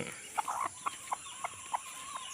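Backyard hens, some of them Texas-line chickens, cluck softly in short, evenly spaced notes over steady background hiss, close by and moderately quiet, with no talk.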